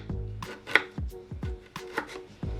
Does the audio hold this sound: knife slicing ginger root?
yes